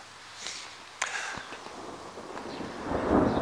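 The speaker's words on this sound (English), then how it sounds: "There's another crack of thunder." Thunder cracks outdoors over a garden vegetable bed, with a sharp crack followed by a rolling, building rumble and wind noise, and no talking.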